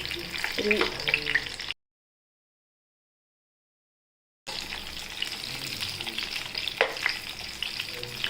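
Masala sizzles in a pan with stuffed capsicum, a close, busy frying crackle with stirring scrapes, broken by a silent gap of a few seconds before the sizzle resumes just as loud.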